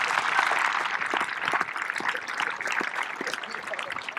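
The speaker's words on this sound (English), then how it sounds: "That's an applause moment," Audience applause at a Class of 2026 high school commencement ceremony, a moderate wash of clapping with scattered distinct claps, somewhat distant and steady across the clip.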